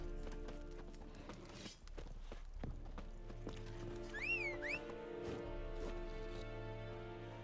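Horse hooves clip-clop in the Witcher 3 video game, a steady close trot over a game-music bed, with a brief whinny rising partway through.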